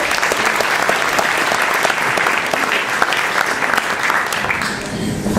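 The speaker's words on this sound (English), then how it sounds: "Give us a round of applause as you join us on the stage." Sustained audience applause for a volunteer walking onto the stage at a magic show, loud and dense clapping throughout with a slight dip near the end.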